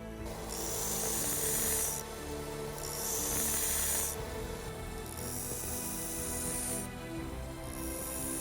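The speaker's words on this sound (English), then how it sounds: "This 1-inch belt sander that I got worked pretty well to round it off." A 1-inch belt sander rounds off a cast bronze ring, producing a close, steady abrasive rasp, with the pitch and grit of the grinding coming in bursts as the metal is pressed on and lifted several times.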